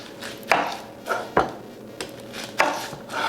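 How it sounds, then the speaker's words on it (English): A knife slices off the ends of an onion on a cutting board, giving several sharp, close chops spaced irregularly, with a faint steady hum in the background. "So I'm just gonna take the ends off."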